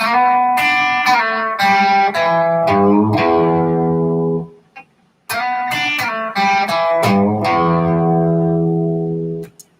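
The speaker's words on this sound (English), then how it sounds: "This sort of a simple sliding blues lick" An electric guitar plays a short sliding blues lick in E, notes gliding and ringing out, then plays the same phrase again; clean and close, nothing else heard.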